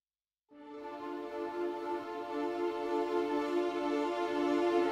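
Orchestral string mock-up of violas split into two sections, the upper line descending while the lower rises in contrary motion; sustained bowed tones enter after a brief silence and swell steadily, alone.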